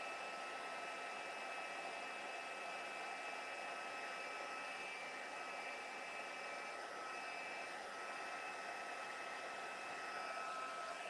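A heat tool blowing steadily over wet, spritzed watercolour paper to dry it, giving a continuous close whooshing hiss with a faint whine and no talk.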